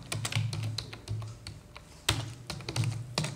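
Fast, irregular clicks and taps of a computer keyboard as Python code is typed, with clustered keystrokes and brief pauses, close and clear, no talking.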